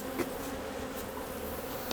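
Honey bees buzz steadily in a continuous close drone beside a beehive outdoors at Wood Lake, with a few louder passes near the listener and no talking.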